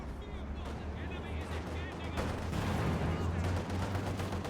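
A Katyusha rocket barrage in Company of Heroes 2 rumbles through a battle with overlapping blasts and crackling impacts, a dense and moderately loud roar of game combat with a commentator talking over it.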